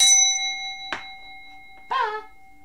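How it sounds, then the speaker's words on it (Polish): A gong struck three times, each ringing with sustained tonal overtones that linger and overlap, the strikes spaced about a second apart and heard alone without talk. "niech ja zadzwonię gongiem"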